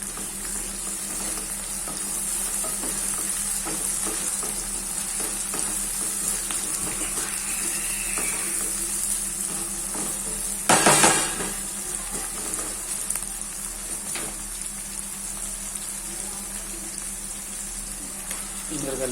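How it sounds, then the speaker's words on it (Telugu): Tomatoes frying in a pan for a raw mango prawn curry, giving a steady sizzle with a sharp louder burst partway through, likely as they are added, and some faint water or stirring noises. "ఫ్రై అవనివ్వండి. ఫ్రై అయిందండి. ఇప్పుడు టమాటో వేసుకుందాం."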